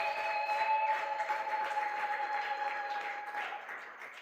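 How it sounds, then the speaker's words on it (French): A church congregation at a Sunday worship and thanksgiving service applauds and cheers, sustained clapping from a large crowd filling the room, steady then slowly fading slightly toward the end. "j'ai besoin de vos acclamations"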